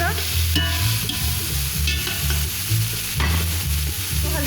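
Chicken pieces frying in a pan, a steady close sizzle with rhythmic scraping and stirring strokes repeating throughout.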